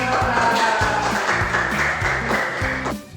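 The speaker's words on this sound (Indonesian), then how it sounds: "Ya, tepuk tangan." Classroom applause during an Islamic studies lesson on zakat and infak, a broad steady wash of clapping that fills the whole clip and drops away at the end, with low voices and tones underneath.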